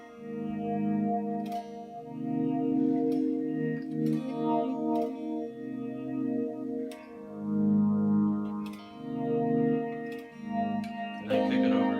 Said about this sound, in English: It's got a little bit of phase, it's got a little bit of delay, it's got some reverb, and then the chorus is just straight distortion.